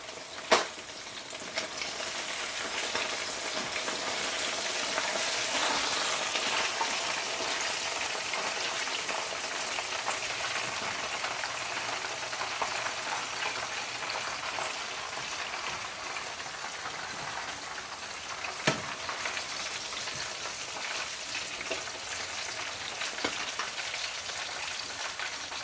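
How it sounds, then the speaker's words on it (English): Jamaican escovitch fish frying in hot oil, a steady close sizzle and crackle that runs throughout with a few sharper pops, and no voices. "So now my fish is finished fried"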